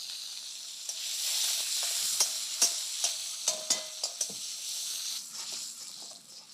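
Ginger chili paste with cumin frying in mustard oil in a kadhai, a steady close sizzle punctuated by several sharp clicks and scrapes of a spoon stirring, with no one talking.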